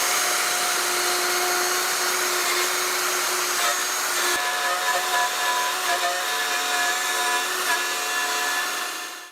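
A handheld router cuts wood in a workshop, giving a loud, steady whine that runs unbroken for the whole stretch. The pitch shifts slightly partway through, and the sound tails off at the very end.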